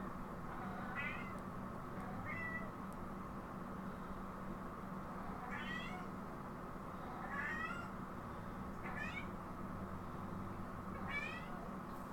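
A house cat meows repeatedly, a string of short mewing calls spaced a second or two apart at moderate distance, over a steady low background rumble.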